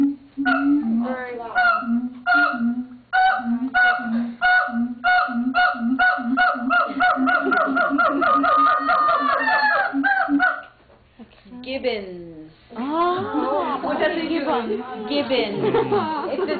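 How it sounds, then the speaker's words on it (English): Excited gibbons call in loud, rapid whooping hoots that rise in pitch and speed into frantic, overlapping wavering cries, continuing for many seconds with a brief pause partway through. "The title is Excited Gibbons."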